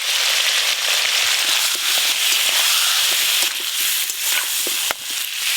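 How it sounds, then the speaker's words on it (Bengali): Potatoes frying in oil and pressed down in the pan for aloo dum, giving a steady close crackling sizzle with scattered pops throughout. "চাপা দিয়ে দিয়ে ভালো করে আলুগুলো ভেজে নেব।"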